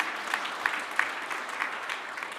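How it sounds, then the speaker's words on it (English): Steady applause from a crowd at a university vice-chancellor installation ceremony, with clapping carrying on evenly through the whole stretch, fairly close and moderately loud. "Let's give him another round of applause."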